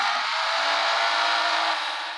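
Race cars in the mobile racing game Need for Speed No Limits give a sustained, bright engine whine at high revs, loud and steady, easing off slightly at the end with no speech.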